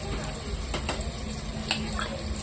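Onion, curry leaves and ginger sautéing in a pan for a mutton dish: a steady low sizzle with a few light clinks of a spoon stirring, close and moderately quiet.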